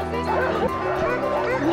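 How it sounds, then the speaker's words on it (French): Sled dogs at a kennel in Finnish Lapland yip and bark in overlapping bursts close by, an excited chorus with whimpers under a person talking. "On va partir avec les chiens du chenil."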